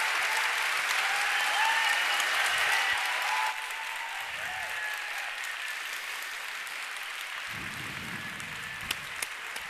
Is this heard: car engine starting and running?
no